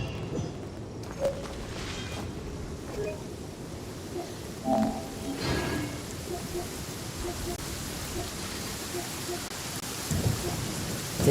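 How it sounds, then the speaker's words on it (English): Steady heavy rain in the video game Genshin Impact with occasional low thunder rumbles and a few faint chimes, continuous throughout. "Taking a stroll in the middle of a downpour certainly rouses the spirit."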